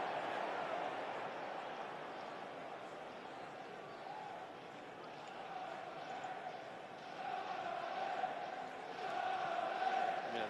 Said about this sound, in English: Sunderland crowd trying to get the boys going here, aren't they?